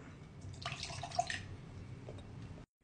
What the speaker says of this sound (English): Let me try to pour it out in the glass so you can see it.